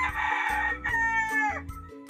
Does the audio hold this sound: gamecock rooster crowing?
yes